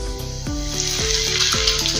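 Chopped garlic and asafoetida sizzling in hot oil for a tempering for chana dal pulao, a steady, bright crackling fry heard up close with faint clinks, no talk.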